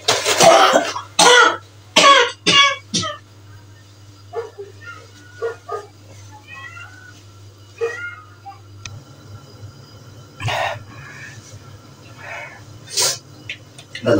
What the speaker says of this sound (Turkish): Bayağı bir öksürmeye başladım yine.